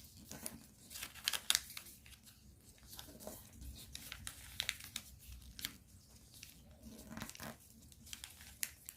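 Paper being creased and folded into a spinning top, with faint, sparse crinkles and soft taps against a quiet background hum.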